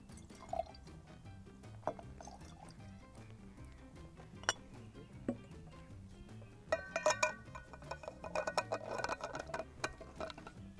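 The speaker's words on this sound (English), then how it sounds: "Look at me, I'm decanting a wine." Burgundy wine being decanted outdoors from a water thermos for a picnic, with faint drips and trickles followed by a cluster of bright glassy clinks and tinkles near the end.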